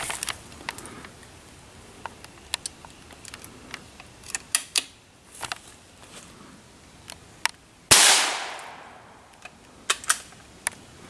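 A single loud, close .22 LR shot from a Marlin rifle aimed at a computer mouse, a sharp crack with a ringing tail, set among scattered small clicks and handling noises outdoors.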